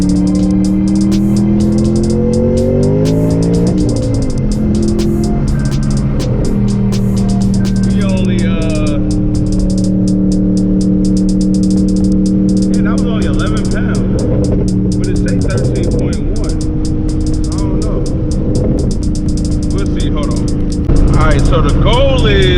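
A twin-turbo Ford Mustang Boss 302 V8 running under high boost, its loud, steady engine drone rising and falling in pitch throughout, with a voice talking over it.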